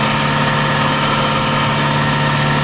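A farm tractor pulling a Kinze planter idles with a steady, loud, droning engine hum and constant mechanical vibration, unchanging throughout and with no voices.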